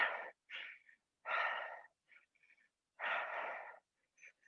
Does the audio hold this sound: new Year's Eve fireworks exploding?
no